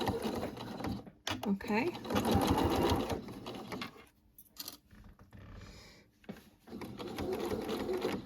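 A sewing machine back-stitches denim fabric for a pencil case, running in loud whirring bursts separated by short pauses, with a brief spoken word between runs.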